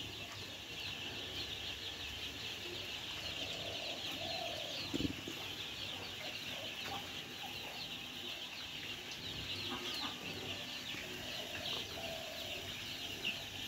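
Young chicks in a poultry farm keep up a faint, continuous high peeping, with one soft thump partway through and no voices.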